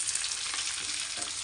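Curry leaves, dried red chillies, garlic, cumin, mustard seeds and fenugreek sizzle in hot oil in a pan for a tomato dal tempering: a dense, steady crackling hiss, close and fairly loud, with faint stirring underneath.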